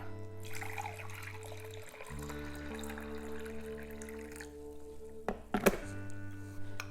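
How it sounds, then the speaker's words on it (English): Water, 2.5 cups, pours steadily into a bowl of bread dough mix with a running, splashing rush, ending in a few clunks and knocks near the close; low hum persists underneath. "I just put all the water in at once."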